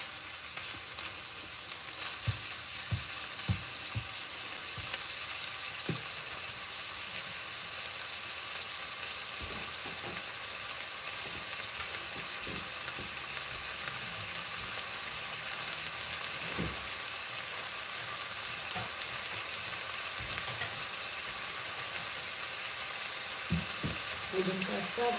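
Pizza sauce of coarsely crushed tomato simmering and sizzling in a pan, a steady close hiss carrying scattered soft pops and clicks of stirring throughout, with no voices.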